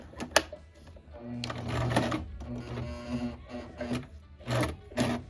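A sewing machine stitches fabric for a DIY Capri Sun pouch lunch tote. It chatters rapidly in uneven runs, starting and stopping, close and fairly quiet, with no talking.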